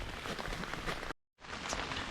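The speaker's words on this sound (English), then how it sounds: "It's raining like, not crazy." Moderate rain patters steadily on a backpacking tent in a Michigan state game area in March, a dense close hiss that cuts out briefly before resuming.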